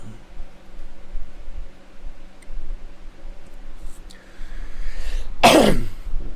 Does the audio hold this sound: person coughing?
yes